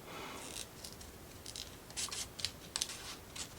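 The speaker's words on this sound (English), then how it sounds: "I'm about to cut off all my glue" Scissors snip away excess glue on a miniature Firefly Forest book nook, a series of short, crisp close cuts with soft rubbing and handling between them, growing more frequent toward the end.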